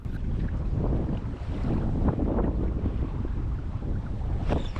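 Strong wind buffets the microphone on a winter perch-fishing trip, a loud, continuous roaring rumble with gusty swells and no one speaking.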